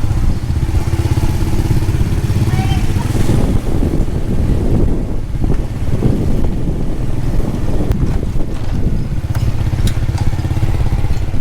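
Steady motorcycle engine drone mixed with heavy wind buffeting the microphone, recorded from the back seat while riding on Don Det and Don Khon, Laos, loud and continuous throughout with no speech.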